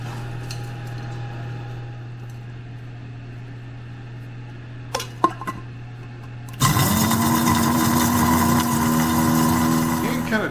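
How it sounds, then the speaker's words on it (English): An electric grinder whirs loudly as it grinds dried chili peppers into powder, starting abruptly after a quiet stretch with a low hum and a few clicks, then running as a steady, dense motor roar. "there was about 1 tray's worth that appeared to be dry, so we're going to grind these up"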